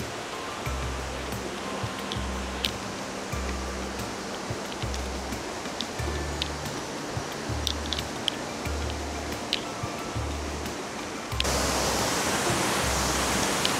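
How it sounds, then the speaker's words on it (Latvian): A waterfall enclosed by rock cliffs, with water spilling down along its sides, makes a steady, dense rushing roar that holds throughout and grows louder toward the end. "Kā trešais noslēdzošais ūdenskritums ir ieskauts klintīs un vaļās ūdens pa malām"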